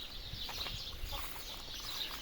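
Young turkeys raised this season call in a pen, with soft, scattered chirps and clucks that sound close but quiet, overlapping in an irregular chatter.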